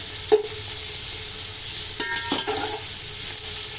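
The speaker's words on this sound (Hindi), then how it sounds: "बस प्याज को नरम होने तक फ्राई करेंगे।" Onions frying gently in a mix of ghee and refined oil, a steady close sizzle broken by a few sharp spoon clanks against the pan.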